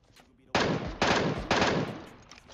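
Three loud full-auto bursts from a Groza or MK14 in the battle royale game PUBG, each a dense rattle of rapid shots about half a second apart, the bursts tailing off between them with no talk over the fire.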